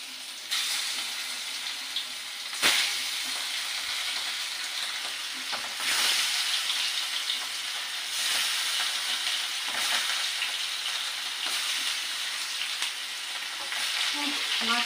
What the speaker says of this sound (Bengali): তেলটা অনেক গরম হয়ে গেছে, এবার মাছটা দিয়ে দেবো।